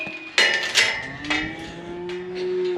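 Cows and calves bellow close by while being sorted apart for weaning, several loud moos in quick succession with drawn-out, wavering calls and faint knocks of pen gear.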